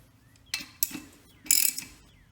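Ratchet wrench snugging lug bolts on a 2018 Dodge Journey wheel during a tire rotation, giving a few short, close clicking bursts with quiet pauses between.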